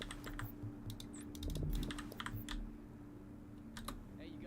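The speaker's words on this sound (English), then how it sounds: "You'll probably hear my keyboard or my mouse clicking throughout." Keys clatter on a PC computer keyboard in quick irregular bursts, with a few sharper mouse clicks mixed in, fairly close but quiet, over a low steady hum.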